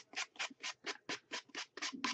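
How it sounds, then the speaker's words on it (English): Nine even, rhythmic rasping strokes of a sanding block rubbing against the edge of a Pringles can box, close up and alone. "I'm just taking this nice little sanding block"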